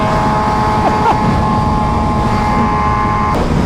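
Honda Fireblade and BMW M1000RR motorcycles at top speed, the M1000RR on its stock Akrapovic exhaust, a loud steady roar of wind and engine filling the whole clip without a break.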